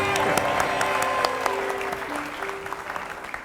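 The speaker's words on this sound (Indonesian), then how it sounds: "Boleh tepuk tangan untuk Fanny." A studio audience at a Family 100 game show applauding a contestant, loud, close clapping from a crowd that starts strong and gradually tapers off, with a sustained tone and crowd voices mixed in.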